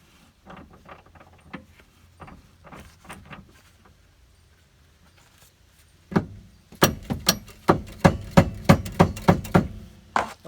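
Hammer blows against a stuck bolt in the rear bushings of a 2005 Subaru Forester, starting as light scattered taps and then becoming a run of sharp, loud, evenly spaced metallic strikes close by.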